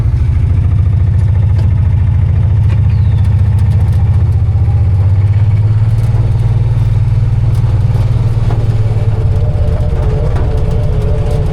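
A vehicle engine runs steadily while driving, a loud low continuous rumble with a slight change in pitch partway through, and no talk over it.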